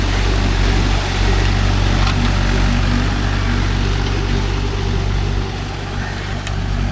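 A Mahindra 575 DI tractor fitted with cage wheels works a paddy field, its engine a steady, loud, low rumble that runs throughout and eases slightly near the end.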